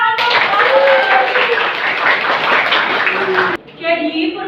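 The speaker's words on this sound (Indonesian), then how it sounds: "Tepuk tangan untuk" A class claps briefly while voices speak over the clapping, which stops abruptly, followed by more speech in a classroom.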